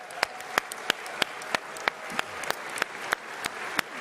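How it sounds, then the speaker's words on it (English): Audience applause at the EFL Awards ceremony for the winners: a soft bed of clapping crowd under a string of sharp, regularly spaced close claps, about three per second, at moderate level. "A big round of applause."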